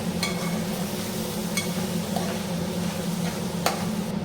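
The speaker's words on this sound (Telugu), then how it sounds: "లైట్గా సాల్ట్ కూడా వేస్తున్నా, ఇందాక సరిపోగా అనిపించింది. అలాగే పెప్పర్ కూడా, అంటే అన్నీ వేసి మంచిగా మిక్స్ చేస్తాం." Gobi fried rice is stir-fried and tossed in a pan with salt and pepper, a soft, steady sizzle under repeated light scrapes of a spatula, fairly quiet and close.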